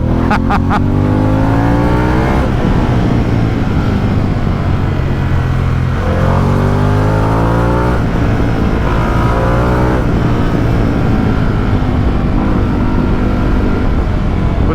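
A Harley-Davidson motorcycle engine rumbles loud and close while riding, its deep, torquey drone rising and falling steadily through acceleration with a few gear changes, continuous throughout.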